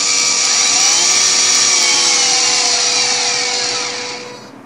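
Small DC motors on an Arduino Nano-driven motorized cart with an H-bridge driver whine loudly and steadily at close range, then wind down and fade at the end.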